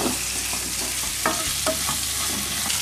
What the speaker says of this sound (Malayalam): ഇനി ഇത് നന്നായിട്ടൊന്ന് മിക്സ് ചെയ്യുക. അടി കത്താതെ സൂക്ഷിക്കണം.